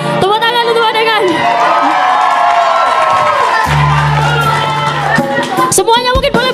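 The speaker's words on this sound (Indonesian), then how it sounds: "Tepuk tangan untuk adegan." A crowd at a university faculty graduation ceremony cheers and whoops loudly, with shouts and clapping mixed together, while music with singing plays over it and a voice carries through the noise.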